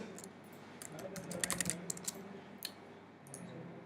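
A password is typed on a computer keyboard in quick clustered keystrokes with a few pauses, faint and close, over a quiet room hum.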